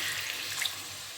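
Water poured from a tap or jug into a pan of mint rohu fish curry, a brief steady splashing stream, moderately close and alone.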